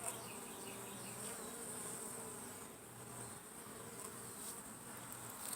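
Backyard honeybees buzz steadily around flowers, a continuous close insect hum holding level throughout with no talking.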